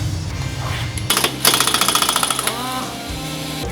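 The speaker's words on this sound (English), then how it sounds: "Remove the castle nut." Castle nut spun off the rear CV axle hub of a Polaris RZR XP Turbo with a rapid, loud rattling impact burst lasting over a second, over steady background hum.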